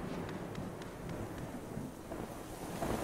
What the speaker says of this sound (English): there's a storm right over my home place